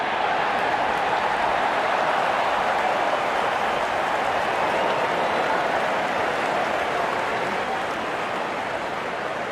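A good crowd cheering at a cricket match in the Real Cricket 26 video game, a dense, steady roar of voices and applause held evenly throughout with no talk over it.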